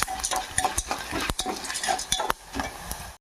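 Coriander seeds fry in a pan as a spoon stirs them, a dense crackling sizzle with repeated scraping clicks and taps of metal on the pan, close and fairly loud, without speech.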